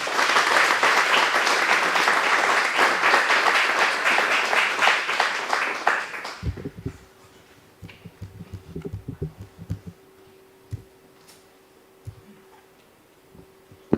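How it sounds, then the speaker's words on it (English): A conference audience applauds loudly for about six seconds to welcome an ambassador, then the clapping fades into a few scattered claps and faint thumps over a quiet room hum. "let us welcome Ambassador Sukalal and his beloved wife seated here with a huge round of applause"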